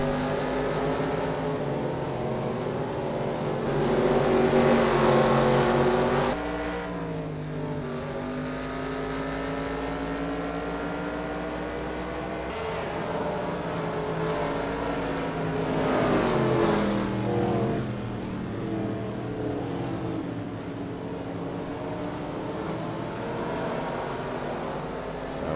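Race cars on a dirt track running through a cornfield roar past continuously, engines rising and falling in pitch as they accelerate and pass, loud and near with overlapping motors and no talk.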